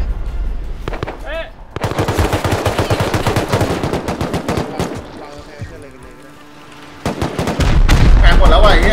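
Loud gunfire in the survival game Rust, fired during a house raid, comes as rapid automatic bursts with heavy booms and a brief lull in the middle, and excited voices shout over the shooting.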